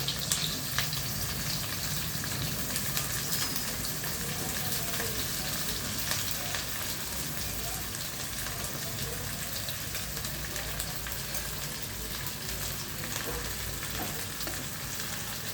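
Sliced onions frying in hot oil for a mutton curry, a steady dense sizzle that runs unbroken and fairly loud throughout, with no talk.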